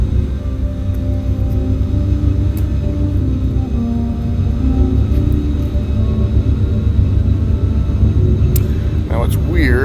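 Star Citizen spaceship in quantum travel, a steady loud low rumble and engine roar that holds for ten seconds, with a rising warble near the end.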